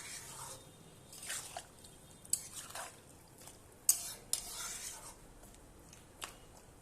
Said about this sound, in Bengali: তো এবার একটু আমি ভালো করে নেড়ে দেবো।